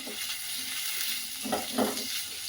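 Potatoes go into a pan of hot ghee where green chillies are frying, setting off a dense, even sizzle nearby, with a couple of louder clattering stirs near the end and no voices.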